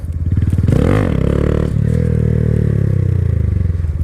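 A Honda Grom motorcycle engine revs hard at low speed, rising to a peak and falling back, then settling into a steady, close, loud idle-like drone that sounds close to stalling.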